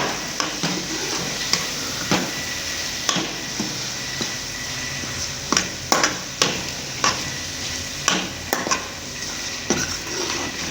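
Ingredients for halwa, including almonds, roast in a pan with a constant dry sizzle while a spoon scrapes and knocks against the metal in irregular strokes roughly every half second to second, with no speech.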